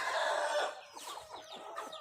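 Free-range farm chickens cluck close by while a rooster crows, the crow loud at first and then giving way to softer, scattered clucks.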